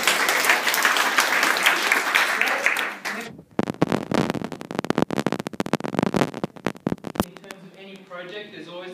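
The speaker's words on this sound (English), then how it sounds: "I think it's worth a round of applause." An audience bursts into applause that is loud at first, then drops off sharply and continues as scattered, uneven claps before speech resumes near the end.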